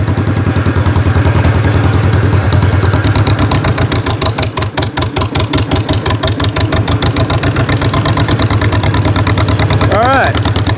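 A 1949 John Deere tractor engine runs steadily and loudly up close in cold weather, its rapid regular firing pulses continuous throughout with a brief squeak near the end.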